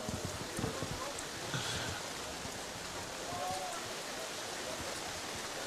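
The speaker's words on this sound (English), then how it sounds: "Rain starting to come down just a bit harder." Steady rain pours down at an outdoor baseball game, a dense continuous hiss that holds evenly throughout, loud and close with no pauses.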